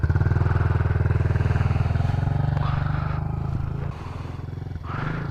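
A dirt bike engine idles and putters steadily at close range, with a fast even pulse that softens a little toward the end. A small grom motorcycle is also present.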